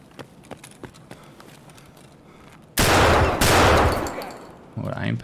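Video game gunshots, a few faint sharp shots early on, then a loud heavy burst of rapid fire that lasts about a second and a half, a brief lull, and another loud burst at the end.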